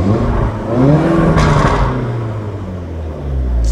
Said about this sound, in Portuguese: Isso dá pra ouvir a turbina, ouça bem